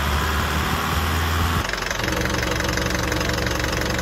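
An Isuzu 4JJ1 diesel engine with around 360,000 km on it, running while air is bled from its cooling system, a loud steady rumbling drone with a noticeable shift in tone partway through and no voices.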